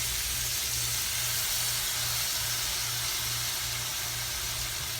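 Soy sauce sizzling in a hot pan, a steady bright hiss filling the whole stretch, loud and close, with a faint low hum pulsing underneath.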